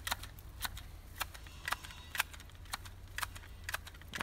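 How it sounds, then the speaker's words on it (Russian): Garden shears clip a thuja hedge with a steady run of quiet, crisp snips, about two per second, close by and alone. "Вы представляете, сколько я делаю щелчков, чтобы постричь только одну тую? 1000 щелчков."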